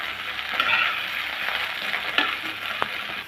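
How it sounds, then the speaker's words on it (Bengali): Flat beans frying in hot mustard oil in a pan, giving a continuous bright sizzle with a few small pops and stirring scrapes, close and steady throughout. "একটু হালকা ভেজে নেব।"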